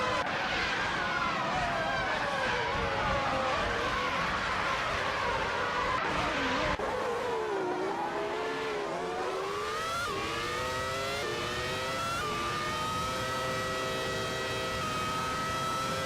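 Several race cars in a racing video game roar past and overtake one another, engines revving and pitches sweeping up and down continuously for the whole stretch, loud and dense with no talk.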